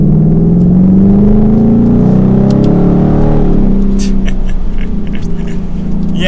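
A Ford Mustang GT coupe's 5.0 V8 engine and exhaust give a loud, deep, close rumble that swells as the revs climb, then settles into a steadier lower drone with some light background noise on top.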